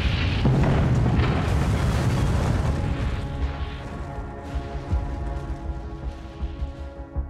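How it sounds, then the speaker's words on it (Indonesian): A hydrogen bomb test explosion at Bikini Atoll, a huge booming roar that opens loud, then a long rumbling decay with scattered low thuds. "Pada tanggal 1 Maret 1954, bom hidrogen pertama pun diledakkan di Bikini Atoll."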